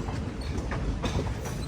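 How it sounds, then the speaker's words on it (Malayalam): A train rolling into Thrissur railway station in Kerala, a steady rumbling roar of wheels and carriages with faint clatter, continuous and fairly close throughout. "ഇപ്പോൾ ഇതാ തൃശ്ശൂർ റെയിൽവേ സ്റ്റേഷനിലേക്ക് നമ്മുടെ ട്രെയിൻ എത്തിക്കൊണ്ടിരിക്കുകയാണ്"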